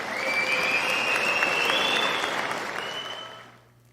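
Recorded applause played back during an audio level test: a steady wash of clapping, fairly loud, with a whistle-like tone running through it, fading out over the last half second.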